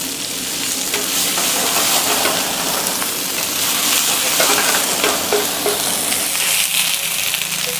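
Onion and ginger-garlic paste fry loudly in hot oil for a Kolhapuri mutton fry, a dense, continuous close-up sizzle with faint stirring and no talking.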